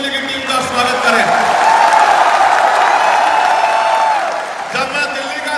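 Crowd at a large political rally in a stadium claps with both hands, a broad wash of applause and cheering that swells through the middle and fades near the end, with voices mixed into the roar.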